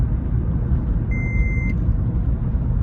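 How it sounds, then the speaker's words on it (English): A single steady electronic warning beep from a malfunctioning car sounds for about half a second over a constant low rumble of the vehicle interior. "sorry about the beeps. There's something going on with my car"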